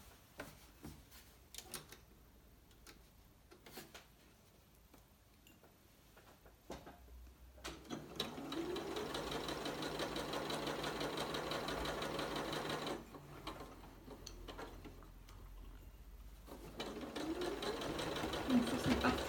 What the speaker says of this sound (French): Et on est parti sur la machine à faire un point droit.